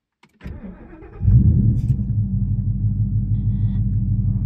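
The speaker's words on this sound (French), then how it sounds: "tu appuies sur le frein pour démarrer" A car's 5.0-litre V8 engine starts with a short starter whir, then catches into a loud, deep, steady idle rumble close by, with no talk.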